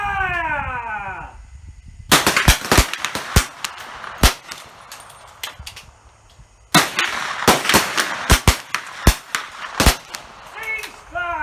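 Rifle fire from .310 Martini Cadet military trainer rifles at a range: sharp, loud, irregular cracks close by after a shouted command, with a short quiet pause before a second volley of shots.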